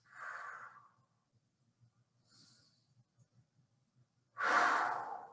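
Slow, deep breathing during a training hold: a long exhale, a fainter breath mid-way, then a loud, close inhale or exhale at the end, with quiet pauses between.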